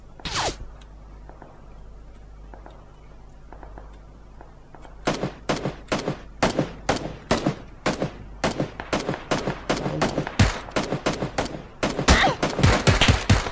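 Gunfire in PUBG: an early crack, then a quiet lull, then a long run of evenly spaced, loud single shots that speed into rapid bursts toward the end.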